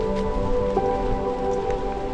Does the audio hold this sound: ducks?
no